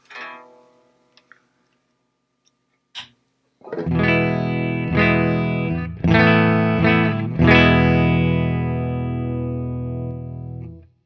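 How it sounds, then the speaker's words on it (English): A few faint plucks, then loud distorted electric guitar chords through an amplifier on its 100-watt setting, strummed several times and left to ring out with a thick sustained tone. "for this amp, right now it's in the 100 watt setting. So I'll play a quick sound"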